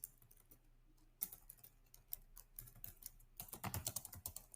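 Keys clatter on a computer keyboard in quiet, close, irregular runs that grow busier and denser toward the end, with no talking.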